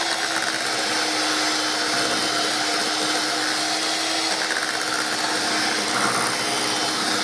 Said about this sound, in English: I'm going to continue beating this until it gets smooth.